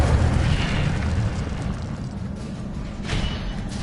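A fire spell, Incendio, is cast in a wizard video game, bursting out as a loud rushing roar of flame that eases off and then flares again briefly near the end.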